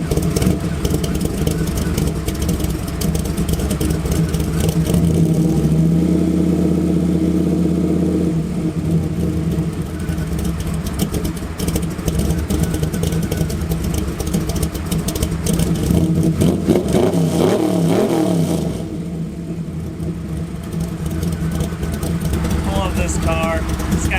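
A lifted Cadillac with 3-inch exhaust and side pipes idles with a deep, loud rumble, then revs up in two swelling bursts before settling back down.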